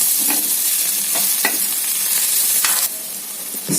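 Spatula stirring ridge gourd fry in a hot pan, steady sizzling underneath with several distinct scraping strokes and clinks, close and fairly loud.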